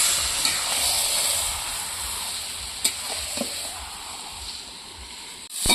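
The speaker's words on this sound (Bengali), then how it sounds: "এখানে আলু ভাজাভাজি চলছে" Potatoes frying in a pan during a festive home cooking of Makar Sankranti meat and pitha, giving a steady close sizzle and hiss with a few sharp clinks, fading at the end.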